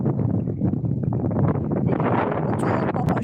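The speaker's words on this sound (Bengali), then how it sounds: "প্রচুর বাতাস, প্রচুর।" Strong wind gusts by a river, roaring and buffeting the microphone in a continuous loud rumble with no voices over it.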